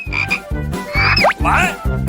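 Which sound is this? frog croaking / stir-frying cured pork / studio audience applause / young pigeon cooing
frog croaking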